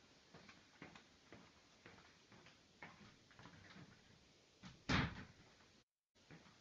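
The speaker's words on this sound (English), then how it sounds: "I need to close a door." An indoor door is pushed shut with a single solid knock partway through, set against quiet room noise and a few faint bumps, with no talking.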